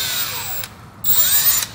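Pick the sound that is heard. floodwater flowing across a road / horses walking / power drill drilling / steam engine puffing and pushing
power drill drilling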